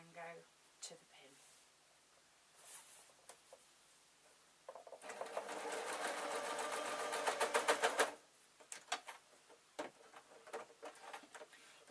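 A sewing machine stitches the hem of a full circle skater shirt, a steady rapid chatter running for a few seconds in the middle between quieter handling sounds and short bursts.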